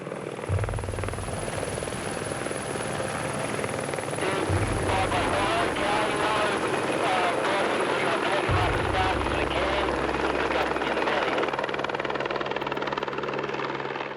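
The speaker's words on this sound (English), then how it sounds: "stand clear of the chopper" A rescue helicopter roars loud and steady at close range in extreme winds, its rotor thumping continuously, with a few deeper whooshing surges along the way.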